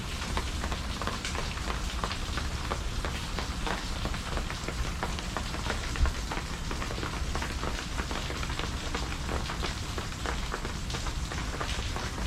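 Steady rain falls on a rainy morning at Animal Kingdom, Walt Disney World, a dense, even hiss of drops on surfaces that runs unbroken and fairly loud throughout, with no talk.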